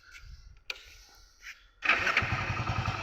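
Hero Splendor Plus motorcycle on a cold morning, electric starter whirring briefly in short bursts before the small single engine catches and settles into a steady, close putter of idling.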